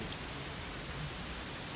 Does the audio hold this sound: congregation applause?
no